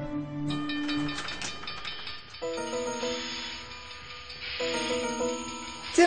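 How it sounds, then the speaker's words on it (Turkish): A train approaches in a children's cartoon about cars, announced by two sustained whistle blasts over faint rolling noise, with electronic tones at the start. "Tren geliyor."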